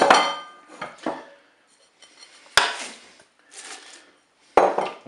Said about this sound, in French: Je vais rajouter mes légumes, le chou et des pommes de terre.